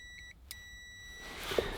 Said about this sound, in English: So I'm setting it to continuity mode. When the leads hit together, it will make a beep.